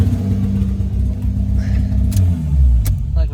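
Lexus IS300 with a 2JZ engine and a blown turbo idling roughly, a loud close low rumble with uneven pulsing and a brief rise in pitch, a few faint clicks and background noise over it.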